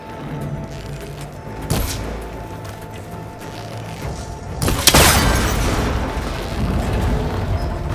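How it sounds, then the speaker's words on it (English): A cable connector shot and broken in Horizon Forbidden West, heard as a sharp impact burst near 1.7 seconds and a louder cracking crash around 5 seconds, followed by sustained rumbling debris over constant low game ambience. "That connector's holding the cables together. It should break if I shoot it."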